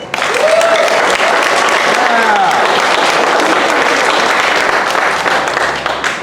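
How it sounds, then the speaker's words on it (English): Sustained, loud applause from a conference audience, dense steady clapping that fills the room for several seconds with faint voices underneath. "Let's give a round of applause for that."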